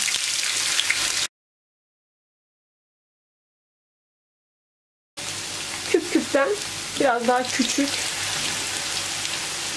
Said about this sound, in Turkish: 4 adet küp küp doğradığım patatesleri ısınan yağın içerisine atıyorum